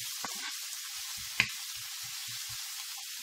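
Salted onion sweating in a frying pan, a soft continuous sizzle with a few faint taps and one sharp click.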